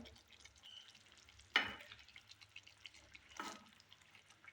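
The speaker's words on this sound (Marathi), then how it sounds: "आता छानपैकी वांग्याला उकळी आलेली आहे" Tender eggplant curry simmers at a boil in a pan, a faint, soft bubbling hiss broken by two brief louder stirring scrapes.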